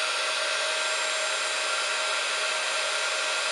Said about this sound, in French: Et ensuite vous avez un pistolet chauffant